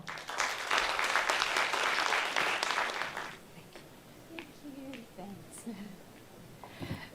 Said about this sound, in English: Everyone, a round of applause for Mrs.